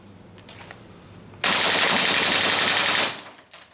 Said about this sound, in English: Now I want to test the rate of fire